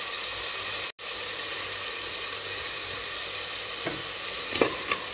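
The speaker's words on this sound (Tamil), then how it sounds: "இப்போ தக்காளி நல்லா வதக்கிக்கலாம்" Tomatoes with salt sauté in a pan, a steady close sizzle and hiss broken by one brief dropout, with a few soft stirring scrapes near the end and no speech.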